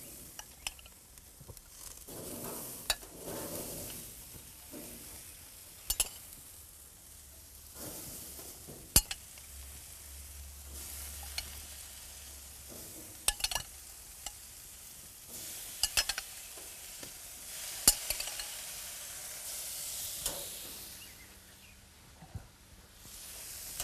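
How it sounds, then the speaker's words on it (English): Vegetables stirred in a metal grill basket over a hot grill, a steady soft sizzle broken by scattered sharp clanks and scrapes of the utensil against the basket. "Just going to mix those up a little bit. It's going to help me get like a nice stir fry, but on the grill"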